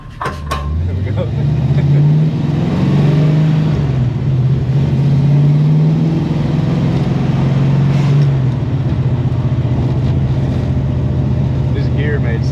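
A car fitted with new mufflers and a TKX 5-speed gearbox pulls away, its loud exhaust rising in pitch through acceleration then holding a steady drone, heard from inside the car.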